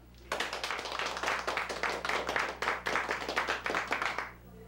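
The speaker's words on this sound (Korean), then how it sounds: "축하하는 의미에서 박수!" Soldiers and non-commissioned officers at a small army celebration party clap together in a brisk, loud burst of rhythmic claps, starting sharply and fading out near the end.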